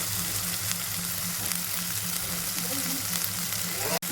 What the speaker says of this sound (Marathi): चांगला फ्राय करून घ्यायचा जवळ तेल वरती येत नाही ना तवर